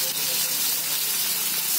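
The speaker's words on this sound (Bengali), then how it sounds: "তেল গরম হয়ে গেছে, পটলগুলো দিয়ে নেব, ভেজে নেব।" Pointed gourd pieces frying in hot oil, a loud, close, continuous sizzle and hiss that stays steady from start to finish.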